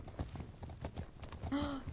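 Horse hooves clip-clopping in the video game The Legend of Khiimori, a steady run of evenly spaced, fairly close hoof strikes with a brief higher tone partway through.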